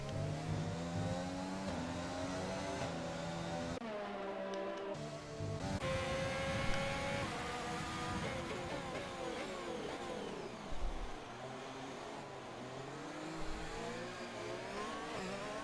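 F1 game cars race on the Canada circuit under a safety car, their engines droning and whining at changing pitch as they accelerate and ease off, with no talk.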